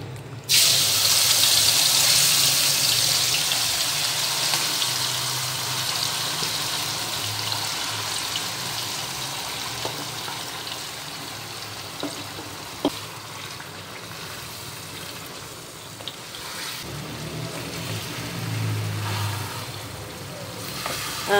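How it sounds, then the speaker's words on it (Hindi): Minced meat frying over high heat in olive oil in a kadai, a loud steady sizzle that is strongest at first and then settles into a continuous crackling hiss with occasional small pops, heard close with no talking. "तो अब मैं कीमा जो है वो इसके अंदर डाल दूँगी कढ़ाई में मैंने डाले हैं 2 सर्विंग स्पून ऑलिव ऑयल।"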